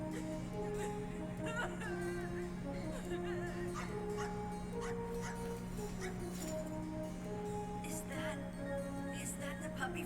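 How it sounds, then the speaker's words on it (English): A puppy in the Wild ARMS 4 video game whimpers and yips in repeated short cries over sustained background music and a low hum, with no talking. "Is that the puppy from the river?"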